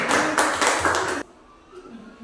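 Classroom students clap for a student group, a short loud burst of clapping that stops abruptly after about a second, followed by quiet room tone.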